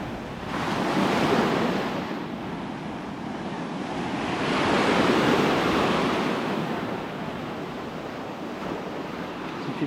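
Ocean surf breaks steadily on a Punta Cana beach while strong wind buffets the microphone, the roar swelling twice in broad washes of noise with no voices.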